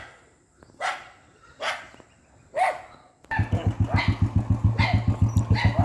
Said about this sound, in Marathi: एवढसा कुत्रा आलता तो